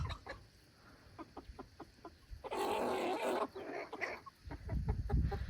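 Chickens cluck in short repeated bursts nearby, with a brief rustling flurry in the middle and more clucking resuming afterward.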